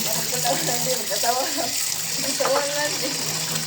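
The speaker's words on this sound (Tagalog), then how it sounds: "lagyan natin ng tubig kasi uhawin yung mga bao, yung mga pagong" Water poured into a container for Philippine box turtles, a steady splashing gush lasting a few seconds, close by, with faint voices in the background.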